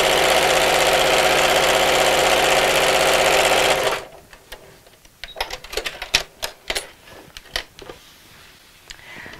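A sewing machine fitted with a quilting foot runs in a loud, steady whir for about four seconds while stitching cushion fabric, then stops, leaving scattered soft clicks and handling noises.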